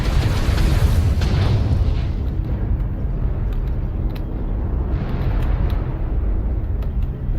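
Artillery strike explosions in the MechWarrior Online game boom heavily with deep rumbling blasts, a loud burst early on and another around the middle, over continuous low battle noise.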